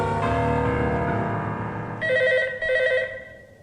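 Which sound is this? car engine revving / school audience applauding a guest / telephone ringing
telephone ringing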